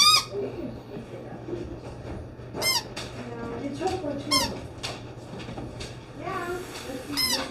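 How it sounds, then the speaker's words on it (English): A dog's squeaky toy gives several sharp, high squeaks in short bursts spaced a second or two apart. A low, steady hum runs underneath. "Are you happy you have your squeaker?"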